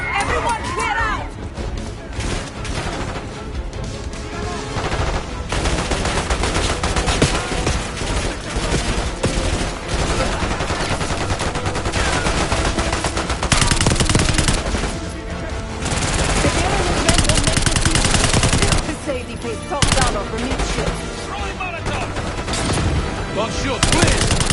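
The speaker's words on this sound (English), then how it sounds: "They have guns!" Dense, loud gunfire from a Black Ops shooter game, with bursts of machine-gun and rifle fire running nearly continuously along with crashes, and shouting voices mixed into the chaos.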